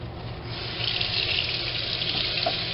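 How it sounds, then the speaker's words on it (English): Water from a kitchen sink tap runs steadily over a cutting board being rinsed, a close, continuous splashing hiss with slight surges as the board moves under the stream. "Rinse the board."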